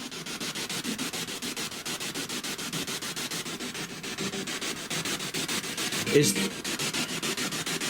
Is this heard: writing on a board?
no